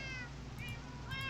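Cats inside a video game meow several times, short and fairly faint over a steady low hum of game audio.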